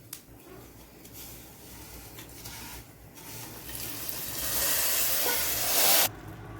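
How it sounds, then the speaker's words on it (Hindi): Fried vermicelli going into milk sets off a rising hiss that swells over several seconds to a loud, broad sizzle, then cuts off abruptly. "अब हम इसको फ्लेम को ऑफ कर इसको दूध में डालेंगे।"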